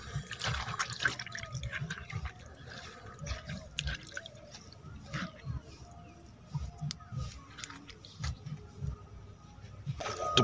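Water poured and splashing while fish is washed during desi-style cooking outdoors, irregular drips and sloshes close by with a voice talking underneath.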